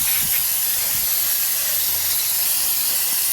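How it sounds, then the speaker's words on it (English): A loud, continuous hiss of brake cleaner spraying from an aerosol onto a 2001-2005 Honda Civic rear wheel bearing assembly, steady and close throughout without a break. "give it a good spraying with some brake cleaner"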